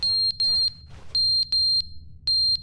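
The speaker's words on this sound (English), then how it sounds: "Fire alarm." A fire alarm shrills in The Stanley Parable: a piercing electronic beeping in short repeated bursts, loud and close, with a brief gap before the pattern resumes.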